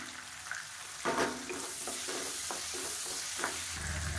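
Shallots, garlic and curry leaves frying in oil for a small-onion kara kuzhambu give a steady, moderately quiet sizzle, marked by several soft spatula strokes scraping through the pan.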